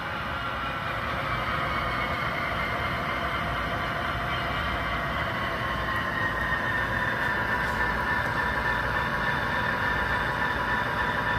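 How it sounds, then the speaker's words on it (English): A switcher locomotive picking up rail cars rumbles steadily at a distance with low mechanical drone and faint metallic rail sounds, continuous throughout. "the switcher's going to come out, and he's going to pick up this first train"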